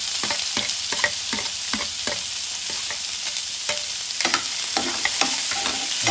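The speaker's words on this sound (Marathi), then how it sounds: "आता आपलं हे तेल मस्तपैकी गरम झालेलं आणि आता आपण घालताना ते आपण 2 बारीक चिरलेले कांदे." Two finely chopped onions fry in hot oil in a pan, with a steady dense sizzle and repeated scraping stirs of a spoon close by.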